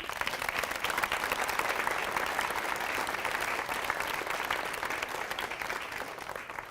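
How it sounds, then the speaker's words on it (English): Crowd at a championship final weekend applauding two teams' managements, a sustained, fairly close wash of many hands clapping that stays strong and slowly eases toward the end. "I think you both deserve a huge round of applause."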